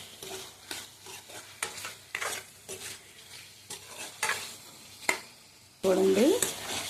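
Tomatoes sizzle in a pan as they are stirred with salt for a small-fish and raw-mango curry. A steady hiss of frying is broken by repeated scraping strokes, ending in a louder clatter of the pan and lid.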